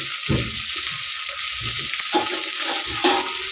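Vegetables frying in a little oil in a pan, a loud, continuous close sizzle with soft bubbling crackles and occasional stirring knocks.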